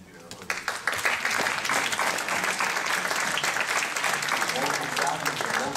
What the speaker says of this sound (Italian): noi gli abbiamo fatto un applauso per tutti i relatori